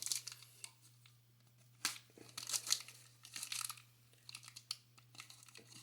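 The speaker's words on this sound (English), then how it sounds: "let me pull the card out of here" Plastic and cardboard packaging crinkles and crackles as a Dungeon Dice Monsters trading card is pulled free, with irregular close bursts of rustling and a few tearing scrapes, quiet stretches between them and a low steady hum underneath, no talking.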